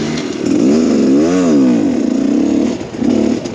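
A Rieju MR Pro 300 dirt bike ridden through a rough section, its engine loud and close, revving and dipping in a wavering pitch before surging again.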